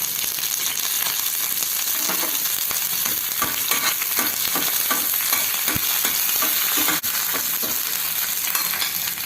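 Curry leaves sizzle and crackle in hot oil, a dense, continuous frying hiss with scattered pops and the occasional clink of a utensil.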